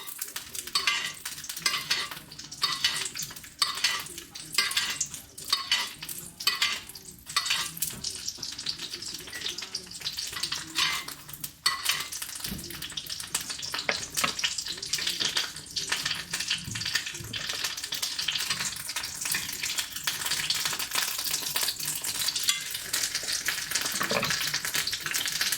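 Cod wrapped in napa cabbage sears hard in a hot pan, giving a dense, continuous sizzle with repeated scraping and tapping of a utensil, heaviest in the first half. No talking.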